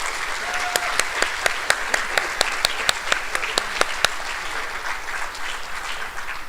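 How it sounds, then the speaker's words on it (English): Audience applause at a school band concert for 5th to 12th grade students, a broad steady wash of many hands with a few sharp individual claps standing out, lasting several seconds before tapering slightly. "Round of applause for these people."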